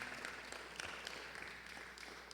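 A church congregation gives a brief round of applause to the Lord during a sermon, soft and somewhat distant clapping lasting a couple of seconds.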